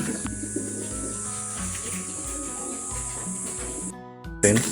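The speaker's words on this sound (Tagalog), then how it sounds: "Naikot yung mga ibon." Racing pigeons cooing softly in low repeated pulses, with a brief burst of wing flapping near the end, heard up close under faint background hum.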